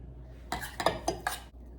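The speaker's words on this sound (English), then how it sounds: "Then I'm just going to spoon this out." Spoon scooping cottage pie filling into a dish: four quick clinks and scrapes of metal against the dish within about a second, close by and clear, then quiet.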